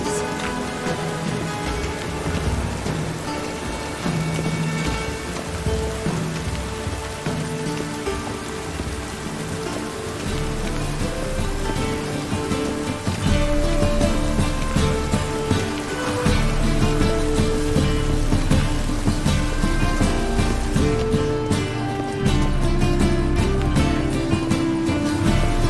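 Steady rain falling and pattering on surfaces, a dense continuous hiss of drops that grows heavier and louder partway through, with no voices.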